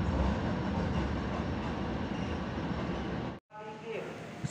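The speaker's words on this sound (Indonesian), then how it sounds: "kereta api Jakarta Tingkir akan segera tiba dan berhenti di stasiun Wates" Jaka Tingkir passenger train rolling into Wates station in Yogyakarta, a loud, broad, steady rumble that cuts off abruptly near the end before faint rail noise resumes.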